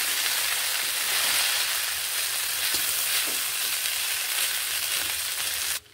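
Vegetable egg chow mein stirred and frying in a pan, a steady close sizzle with soft scraping from stirring, continuous for several seconds before cutting off abruptly.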